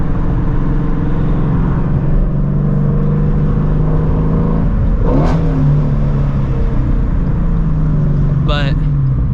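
A 2016 Shelby GT350 with a short-throw shifter revving hard while accelerating, a loud continuous engine roar rising and falling in pitch through gear changes, close up and dominating the scene.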